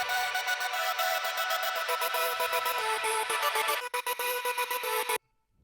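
Layered vocal chop samples carry one melody together in a dense electronic production, bright and sustained, stuttering near the end before cutting off abruptly.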